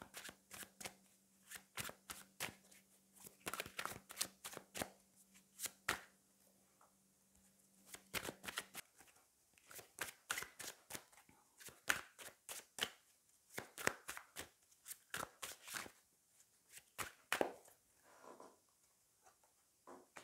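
Tarot cards being shuffled and drawn by hand, a run of sharp, close riffling snaps and flicks in quick irregular bursts with short pauses between them, and no talking.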